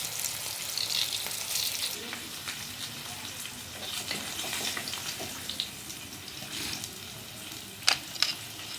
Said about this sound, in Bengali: আমি এইভাবেই এগুলো ভেজে নেবো, বেশি লাল করে ভাজার দরকার নেই